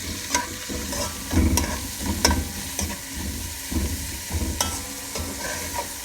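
Onions sprinkled with salt fry in a pot for beef bone broth, a low steady sizzle broken by repeated scraping strokes of a spoon stirring them, near and fairly loud, with no voices.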